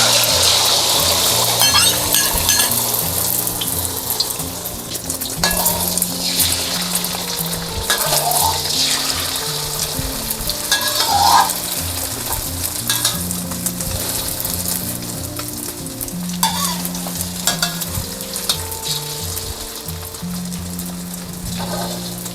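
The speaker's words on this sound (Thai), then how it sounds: "นี่ค่ะกระทะร้อนแล้วใส่ไข่ลงไปเลยค่ะ" Loud, steady sizzling of eggs frying thick in a hot wok for a Thai curry, a continuous crackling hiss with occasional scraping, and no voices.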